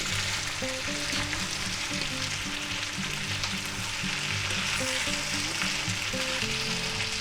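Potatoes, onions and sausage sizzle steadily in a frying pan, a loud continuous crackle close by with faint music underneath and no talking.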